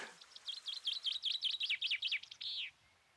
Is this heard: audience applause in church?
no